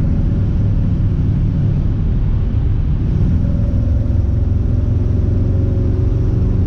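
A car accelerates up to highway speed, its engine giving a loud, steady droning rumble that rises slightly in pitch partway through, heard from inside the cabin without talking.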